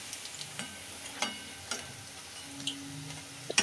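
Sweet potato pithas (sweet potato puli with coconut, sugar and jaggery filling) sizzle softly in hot oil in a home kitchen wok, with a steady faint crackle broken by a few light clicks and taps.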